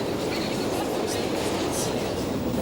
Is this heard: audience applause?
no